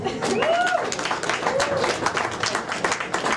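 A comedy club crowd breaks into applause, with brisk clapping mixed with a few rising shouts and voices throughout.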